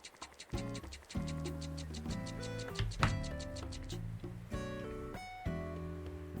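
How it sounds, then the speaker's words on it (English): A toy train in the video game Animal Crossing plays its chiming, tooting sounds: faint, rhythmic musical tones with light ticking clicks, stopping and restarting in short phrases. "Vixie, you wanna hear my train? It makes sounds like this"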